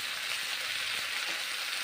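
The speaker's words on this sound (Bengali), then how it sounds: "ছেড়ে দিলাম শুশুনি শাকগুলো এখন কড়াইয়ের মধ্যে" Shushuni greens dropped into hot oil with fried garlic in a kadai, giving a loud, even, close sizzle that hisses without pause throughout.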